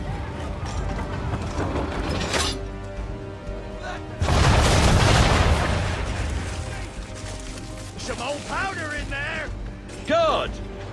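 Ship cannons boom in Assassin's Creed III, with a heavy blast around the middle of the sequence amid mechanical clanks and ratcheting, followed by a voice speaking near the end.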